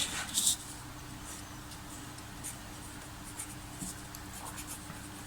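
A pen scratches quietly across paper while a handwritten note is taken during a lesson on measurement, with a few brief strokes over a faint, steady room hiss.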